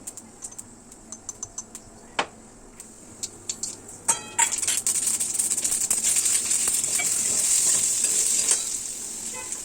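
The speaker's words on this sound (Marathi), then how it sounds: "मिरपूड तीळ घालून बीटसुद्धा परतून घेते आहे" Beetroot tossed with pepper and sesame in oil in a wok, starting with scattered stirring taps and scrapes, then a loud, steady sizzle of frying that builds and holds to the end, close up with no talk.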